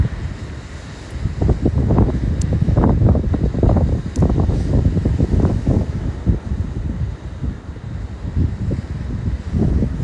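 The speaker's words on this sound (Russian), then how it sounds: "Ветер, но он теплый, кстати." Warm outdoor wind gusting and buffeting the microphone in bursts, a loud rough rumble with surf-like swells, no voices.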